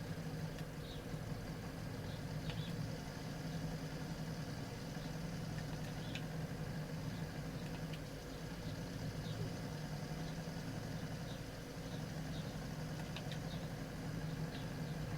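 A battered, underpowered tractor idles in Farming Simulator 22, a steady low engine rumble that runs unbroken and fairly loud throughout, with no talking.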